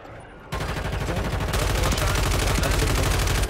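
Gunfire in a battle royale video game: a rapid, loud burst of automatic shots that starts abruptly and keeps going steadily for about three seconds, close and dominant.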